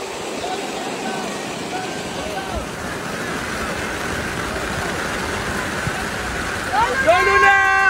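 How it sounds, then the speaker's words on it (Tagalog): Heavy rain falls over an outdoor football game, a dense, steady hiss close by. Crowd voices murmur underneath and a few cheering shouts rise near the end. "kahit malakas ang ulan"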